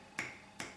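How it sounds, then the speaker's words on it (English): Two crisp finger snaps, close and fairly quiet, spaced about half a second apart in an otherwise quiet room. "try to snap my fingers and show off"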